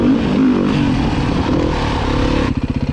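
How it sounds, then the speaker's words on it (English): A dirt bike engine on a slick trail drones loud and close, holding a steady roar that breaks into a pulsing, chugging throb near the end, with no talk. "Yay, dirt bike riding."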